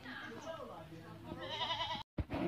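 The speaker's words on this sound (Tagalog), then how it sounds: "daming mga baby na kambing dito" Baby goats bleat in a wavering, nasal chorus at close range on a farm with many goats and chickens, mixed with a person talking nearby.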